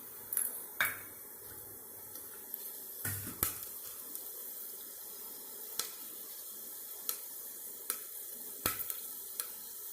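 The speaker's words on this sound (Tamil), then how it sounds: "கடுகு நல்லா பொரியட்டும். கடுகு பொரிஞ்சிருச்சு." Mustard seeds spluttering in hot oil for crab rasam, with a quiet hissing bed and sharp, sparse pops scattered through it.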